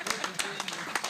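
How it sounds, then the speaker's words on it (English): Audience clapping at a live stream event, a few scattered, uneven claps over about a second, fairly faint, mixed with background voices. "Okay, can you clap for him?"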